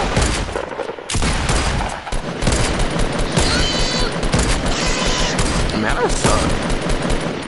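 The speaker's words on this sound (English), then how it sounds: "this guy over here, he's shooting" Rapid bursts of gunfire in the video game Fortnite, dense and continuous across the whole stretch, with a player's voice briefly talking over the shooting.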